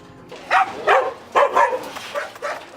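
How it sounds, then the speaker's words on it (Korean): A dog in a kennel gives a run of four or five sharp, nearby barks in an uneven rhythm, each one loud and short, with no talking. "날카롭게 짖는 한 녀석."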